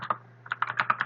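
Computer keyboard typing at close range: a quick run of about a dozen crisp key clicks in a steady, fast rhythm after a short pause, with no talking.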